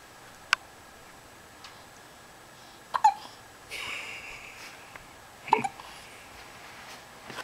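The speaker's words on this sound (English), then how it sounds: "Someone has hiccups." Baby's hiccups after a shower come as several short, sharp isolated bursts spaced a few seconds apart, fairly close and clear, with a soft breathy sound in between and no talking.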